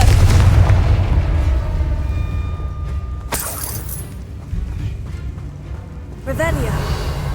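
The Confringo blasting spell in Hogwarts Legacy goes off with a loud, booming explosion and a sharp crack partway through, followed by rumbling debris and a shimmering magical tail, with a voice heard over the blast.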